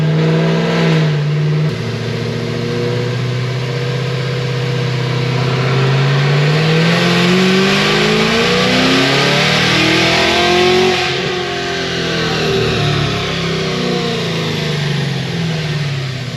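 Supercharged 1100 hp Cadillac CTS-V with a Magnuson 2650 blower and methanol injection revving on a tuning pull, loud close engine drone sweeping up and down in pitch with a steady supercharger whine, no speech.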